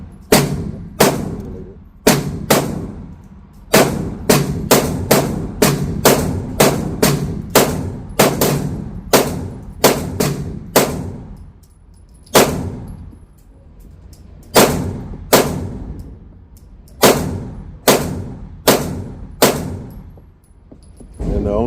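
Sharp pistol shots from an Apollo 11 Compact 2011 handgun crack out close and loud, about two dozen in uneven strings of quick pairs and singles with short pauses, each ending in a brief echo.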